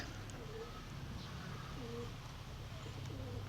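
Soft, low pigeon coos repeat several times against a steady background hum, fairly close and gentle.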